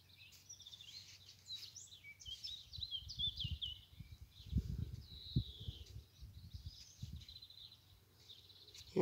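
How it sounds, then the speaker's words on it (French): A small bird sings faint high chirps and short phrases outdoors, with low rumbling handling noise and soft thumps in the foreground. "Écoutez le petit oiseau. Il nous parle."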